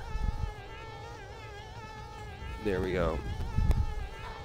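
Bees buzz in the video game Conker's Bad Fur Day, a steady droning hum under game sounds, with a player speaking briefly.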